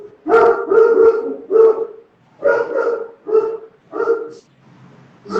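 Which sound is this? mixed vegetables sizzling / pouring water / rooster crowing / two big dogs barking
two big dogs barking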